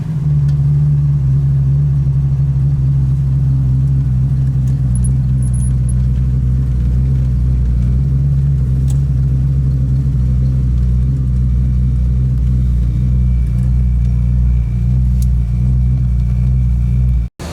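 A 1968 Ford Mustang Coupe, a big-horsepower muscle car, drones steadily from inside the cabin while driving, a loud continuous low engine rumble with faint rattles, cutting off abruptly at the end.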